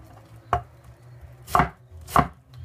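Three distinct knife chops through a raw onion strike a cutting board, spaced unevenly and heard close and clear over near silence.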